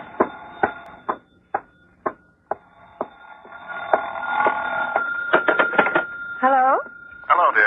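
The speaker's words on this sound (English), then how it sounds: "Oh, excuse me, the phone." Telephone ringing in an old radio drama, with a series of evenly spaced sharp rings that give way to a busier stretch of mixed sound and voices.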